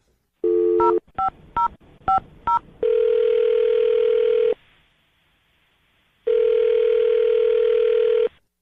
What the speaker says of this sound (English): we're going to dial her number right now